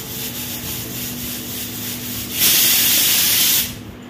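A kitchen pressure cooker vents steam in a loud, steady hissing rush that swells for about a second near the end, over a faint continuous background hiss, with no talk.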